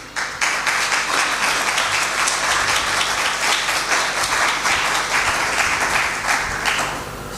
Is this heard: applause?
yes